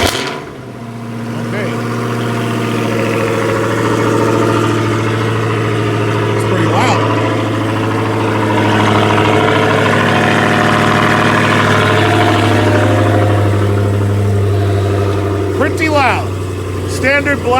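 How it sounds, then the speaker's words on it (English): Dodge Charger SRT Hellcat cold start: a brief crank and catch into a loud, steady, deep idle that holds close throughout, with people talking over the engine. "So let's cold start it."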